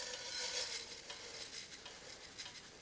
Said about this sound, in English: I'm gonna toast that rice a little bit.